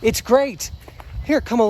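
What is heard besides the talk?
No distinct noise like a dog, phone or traffic.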